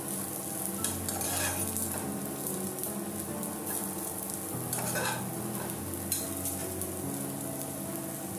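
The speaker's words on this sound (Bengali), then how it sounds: "আদাটাকে একটু ভালো করে ভাজতে হবে, যেন আদার কাঁচা গন্ধটা না ছাড়ে" Ginger fries and is stirred in a pan for lentil dal, giving a steady close sizzle with scraping stir strokes throughout and no voices.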